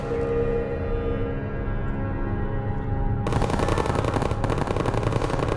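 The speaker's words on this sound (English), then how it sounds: "And we get the turret out." Turret gunfire in a video game: a dense, continuous stream of rapid shots that grows louder and harsher partway through, with no talking.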